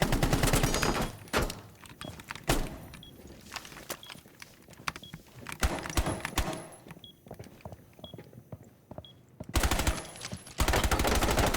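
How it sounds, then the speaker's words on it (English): Bursts of rapid automatic gunfire from a Rainbow Six Siege match, loud and close, with sharp single shots and short pauses between volleys. "See how I pre-fired him there?"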